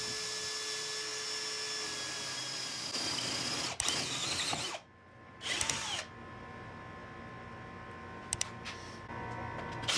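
A Bosch GSB18V-50 cordless drill with a 32 mm spade bit whines at high speed, cuts out, then spins up again in short bursts, loud and close.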